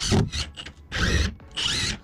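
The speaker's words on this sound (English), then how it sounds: "So we spend our time securing all the plywood sheets to the studs" A power drill drives screws into plywood sheets over wooden studs in a garage, giving three short whirring bursts with brief pauses between them, close and clear.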